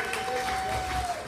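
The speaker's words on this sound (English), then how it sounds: "Give Billy the Kid a round of applause" Applause from an audience at an evening show, a steady wash of clapping and crowd noise throughout, fairly close, with some voices mixed in.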